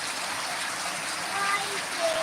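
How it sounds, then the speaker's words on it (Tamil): Heavy rain pours down over a village, a dense, steady hiss of falling water that holds at an even level throughout with no breaks. "எங்கள் ஊரில் பயங்கரமாக மழை வந்துட்டுருக்கு"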